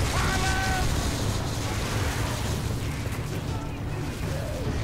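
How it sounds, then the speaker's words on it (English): A grenade explodes during a co-op campaign firefight in Gears of War 3, a dense, rumbling roar under continuous loud game noise, with players talking over it. "I threw a grenade at the floor."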